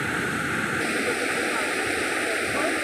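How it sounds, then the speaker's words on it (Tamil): Water flows steadily in a stream among lotus plants during light drizzle, a continuous broad rushing hiss with no pauses, fairly close and even throughout. "எவ்வளோ அழகாக தண்ணி பாஞ்சி வர்றது."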